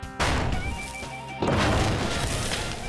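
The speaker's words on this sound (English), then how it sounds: "they found a Hollywood-style gas tank explosion was possible" A Hollywood-style explosion of a car's compromised gas tank at a bomb range: a sharp loud blast opens, followed by a second heavy boom with rumbling, crackling roar that carries on without voices.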